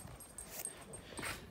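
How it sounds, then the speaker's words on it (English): A dog whimpers softly indoors, a few faint high whines over quiet room noise. "So we've just got a dog at the minute."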